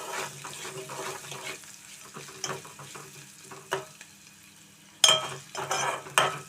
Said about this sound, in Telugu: బాగా కొంచెం ఉల్లిపాయలు కొంచెం కొద్దిగా కలర్ వచ్చేంత వరకు మనం వేయించుకుందాం